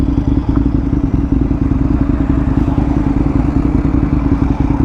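An Aprilia RSV 1000R motorcycle engine runs with a loud, steady low throb and rapid pulsing beat, held evenly close by throughout with no talking.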